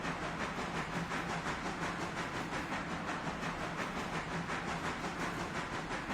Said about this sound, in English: look at how this train is struggling to get up this.